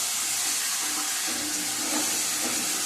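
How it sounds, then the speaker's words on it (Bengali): Ground spice paste of cumin, coriander, chili and ginger frying in hot oil for daliya khichuri: a loud, steady, close sizzling hiss throughout, with no talking. "তেল দিয়ে এবারে মশলাটা মিশে ভাজবো"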